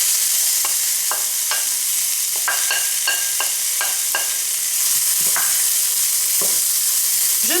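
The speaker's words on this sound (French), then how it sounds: "Je mélange et je laisse revenir quelques minutes jusqu'à ce que les oignons soient bien tendres et le tofu bien grillé." Onions and tofu sizzle steadily in a hot oiled frying pan, with a run of sharp utensil scrapes and taps as they are stirred, close and fairly loud, and no voices.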